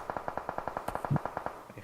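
Rapid automatic gunfire in the mobile video game PUBG Mobile, a steady rhythmic burst of about a dozen evenly spaced shots, fairly faint, with a brief heavier thump partway through.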